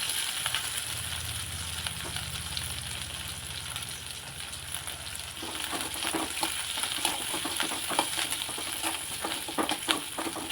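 Dried red chillies, garlic cloves and curry leaves fry in hot oil in a pan for drumstick gravy, a steady close sizzle and crackle that grows busier and more spattering partway through, with stirring scrapes and no talk.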